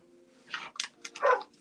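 A dog at home lets out a few short, excited yips and barks in quick succession, close by, over a faint steady hum.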